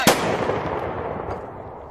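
A musket volley fired by ranks of reenactors: one sharp, loud blast at the start, followed by a long rolling echo that fades away over about two seconds.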